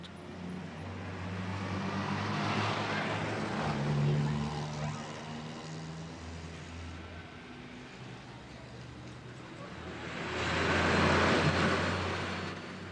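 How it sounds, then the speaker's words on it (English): Street traffic in Ringsend, Dublin: passing cars and heavier vehicles swell and fade, two louder pass-bys standing out over a steady low engine rumble, fairly distant and moderately quiet. "The traffic in Ringsend is a big problem"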